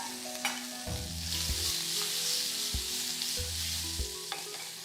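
Eggplant pieces go into a pan of frying onions, giving a steady, moderately loud sizzle with several low clunks and scraping stirs breaking through it, and no one speaking.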